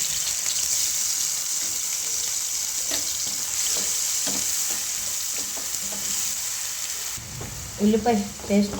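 Onion paste fries in a pan for a paneer curry, with a steady loud sizzle and intermittent stirring scrapes up close, and a few clinks near the end.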